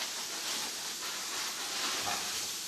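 Broccoli sizzles and hisses in a hot pan for a ramen stir-fry, a steady broadband crackle that stays close and fairly loud throughout, with no voices over it.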